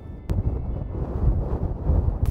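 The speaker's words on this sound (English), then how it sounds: "It's really windy. It comes in gusts." Gusty wind buffets the microphone outdoors on Svalbard, an Arctic island near the North Pole in snowy weather, a steady low rumble swelling and easing in gusts for about two seconds, with no talk.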